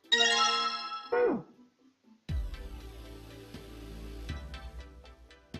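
A bell chimes in the puzzle video game 999: a bright, ringing tone that rises and fades over about a second. A short silence follows, then steady in-game background music.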